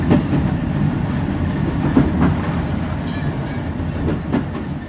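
A train runs steadily as a sound effect in a Bengali audio story, with a continuous close rumble and faint rhythmic clickety-clack of the wheels throughout and no voices.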